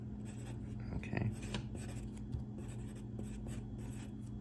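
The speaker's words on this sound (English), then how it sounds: "So let me write this tip down here." A pencil scratches on paper up close during a drawing lesson, giving soft irregular strokes over a low steady background hum.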